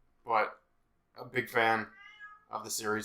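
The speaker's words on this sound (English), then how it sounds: "the cat." A house cat meows a couple of times in the background, brief tonal calls between stretches of someone talking nearby.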